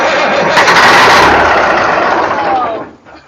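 A 1980 Ford CL9000 truck engine that sat unused for 20 years cranks and catches, giving a loud, rough roar with a sharp burst near the start before it fades and cuts off abruptly.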